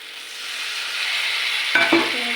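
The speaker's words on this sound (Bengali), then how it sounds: "জল দিয়ে ভালো করে মশলাটাকে কষে নেব।" Spice paste for an egg and potato curry stir-fried with a splash of water in a pan, a steady hiss of sizzling with a brief scrape of stirring near the end.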